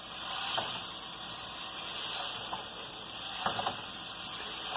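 A Pampered Chef Mix and Chop breaks up meat sizzling in a cast iron pan, a steady hiss of frying broken by a few soft scraping, clicking strokes of the tool.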